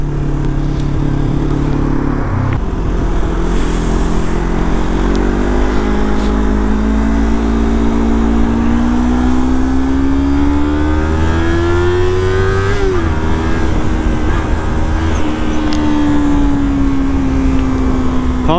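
A powerful motorcycle engine revs hard in second gear, its loud, steady drone climbing and dipping in pitch as the throttle opens and eases, close and continuous with no speech over it.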